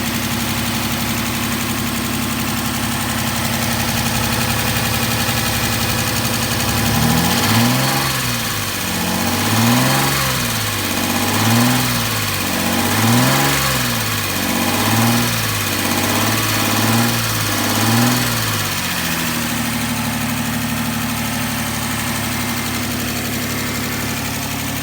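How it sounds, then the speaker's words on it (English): A 2003 Suzuki Grand Vitara XL7 V6 engine runs steadily on a test stand with typical lifter noise, a loud continuous idle broken mid-clip by a series of rhythmic rev swells before settling back to a smooth idle. "Got the typical lifter noise, but it runs really nice."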